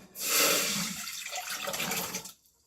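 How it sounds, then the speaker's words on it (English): Diced potatoes tipped with their cold soaking water into a cooking pot, a loud rushing pour that swells quickly, holds steady with splashy texture for about two seconds, then cuts off. "I have them in my cold water, and I'm just going to pour them into the pot."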